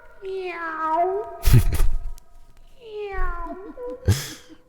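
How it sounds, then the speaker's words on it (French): A cat gives two drawn-out, wavering meows at the close of a song, each followed by a sharp breathy burst, loud and near, with a short pause between the calls. "À la fin, ça fait des miaou."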